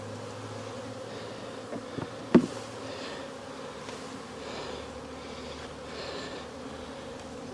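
A steady, low buzzing of many honeybees close by in a cell-builder hive, with a brief knock partway through.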